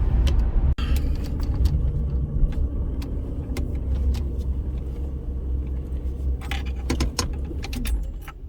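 Interior of a Jaguar XJC on the road: a constant low engine and road rumble with scattered rattles and small knocks, heard close from the cabin with no talking.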